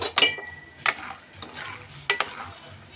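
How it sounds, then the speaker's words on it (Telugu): Peanuts frying in a pan at home, with a few sharp stirring scrapes and clinks spaced over a soft, faint sizzle, no voices. "కొద్దిగా వేరుశనగ గుళ్ళు ఇవి కూడా ఫ్రై చేసుకుని"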